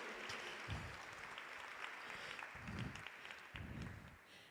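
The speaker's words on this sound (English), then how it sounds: "let's give him a round of applause as one of our co-founders" At a School of Health Sciences launch, an audience applauds a co-founder with a faint, steady rush of many clapping hands that sounds distant and soft and goes on throughout.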